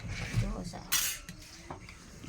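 Clinks and clatter of steel plates and cutlery being set down beside a stove while making a sweet sugar dosa, a few short knocks close by with faint background noise.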